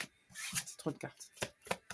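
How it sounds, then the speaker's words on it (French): Tarot cards being shuffled and drawn by hand, close soft riffling and slapping in quick irregular bursts, with faint talk underneath. "tirer quelques cartes là."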